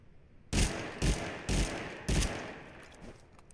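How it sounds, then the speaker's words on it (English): Hit-marker sounds in Totally Accurate Battlegrounds, four sharp percussive impacts in quick succession, each a loud crack with a short tail. "I heard 3 hit markers"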